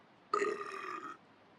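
A single loud, resonant burp lasting under a second, close up, with quiet before and after.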